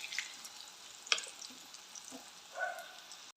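Onion vada frying in hot oil, a faint steady sizzle with a few soft splashes and scraping stirs, close but quiet, with no talk.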